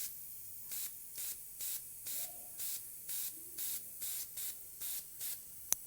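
Short bursts of spray paint applied to the jewellery on a goddess statue, about thirteen evenly spaced hissing puffs in a steady rhythm, close and moderately loud, with a small sharp click near the end.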